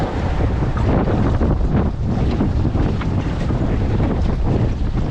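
Strong, steady wind buffets the microphone aboard a small sailboat on a reach under jib, with a constant low roar and rushing water noise, loud and continuous throughout with no talk.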